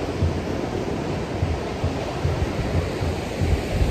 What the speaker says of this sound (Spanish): aquí estamos en la playita